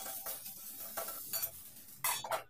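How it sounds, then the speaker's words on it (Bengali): Brinjal pieces being fried with salt in a pan, with several short clattering scrapes and stirring strokes over a quiet sizzle, close and uneven in rhythm. "লবণ দেওয়ার পর বেগুনগুলোকে আমি আবার ভালোভাবে একটু ভেজে নিচ্ছি।"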